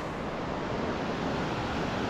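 Clear river water flowing through the town centre of Tubo, Abra, a steady broadband rush of current heard close and continuous, with no voices over it.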